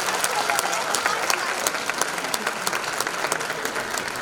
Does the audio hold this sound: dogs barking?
no